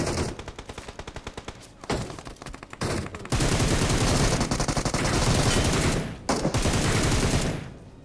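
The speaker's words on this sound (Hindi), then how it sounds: "पीछे से कोई यूएमपी बाज आ रखा है, पता नहीं यूएमपी चला रहा है" UMP submachine gun fire in the BGMI battle game: rapid automatic bursts that start in short clipped strings, then swell into a loud, dense, sustained volley with brief pauses, close and overwhelming.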